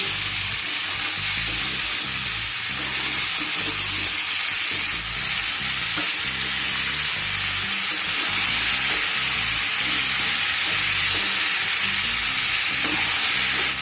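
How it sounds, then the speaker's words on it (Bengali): Turmeric- and salt-seasoned vegetables for a vegetarian Malabar spinach (pui shak) chorchori frying in oil while being stirred: a loud, steady sizzle with spoon clatter and scraping running underneath throughout. "এবার সবজিগুলোকে তেলে বেশ খানিক্ষণ নাড়িয়ে চাড়িয়ে ভেজে নিতে হবে"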